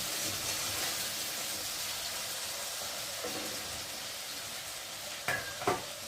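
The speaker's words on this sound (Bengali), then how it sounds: "আমি এদিকে আলুটা ভালো করে ভেজে নিই।" Potatoes frying in a pan make a steady, moderately quiet hissing sizzle. Near the end, two brief clinks of a utensil against the pan sound close by.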